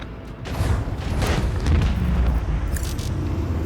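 Heavy starship dorsal weapon batteries firing on a Cobra destroyer in a Rogue Trader space battle, a sustained rumbling boom with deep, rolling low end that swells and holds for several seconds without voices.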